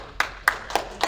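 A few scattered claps from an audience at a talk on team and culture formation, honoring Fremont High School: four distinct claps spaced about a quarter second apart, brief and modest, without voices.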